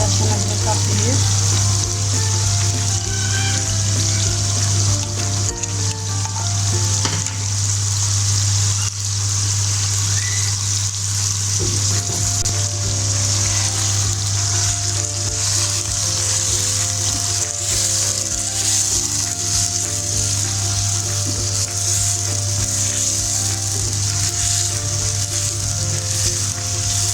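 Salt and garlic-ginger paste hiss and sizzle in hot oil in a cooking pot for a chicken handi, a constant loud crackling wash with a low steady hum underneath throughout.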